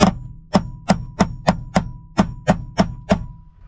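A hammer strikes a metal shifter mounting plate to flatten it, eleven sharp close blows at a steady rhythm, each with a brief metallic ring, with no talking.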